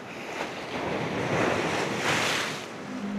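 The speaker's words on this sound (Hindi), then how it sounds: "ओहो अल्लाह बहुत ज़बरदस्त लहर थी और बहुत ऊंचाई में ऊपर आई है।" A big ocean wave surges and crashes onto a rugged Balochistan beach, a loud, continuous roar of surf with wind noise across the microphone, swelling to two peaks with no talking.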